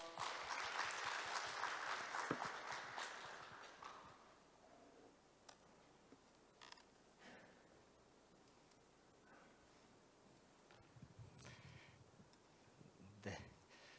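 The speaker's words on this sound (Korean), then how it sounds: "큰 박수 주세요." An audience applauds at the opening ceremony of a shipbuilding and naval architecture society's annual meeting, a soft, distant wash of clapping for about four seconds that fades into quiet room noise with a few scattered claps.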